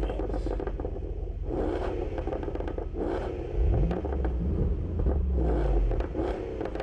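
A 2011 Range Rover with Flowmaster mufflers in place of the original muffler idles loud and throaty, then revs up into a rising rumbling roar before settling back, heard up close.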